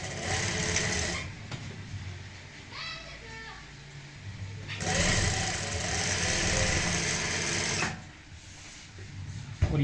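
A sewing machine runs in steady whirring bursts while stitching the seam of a kaftan dress, pausing briefly between runs, with faint voices in the background.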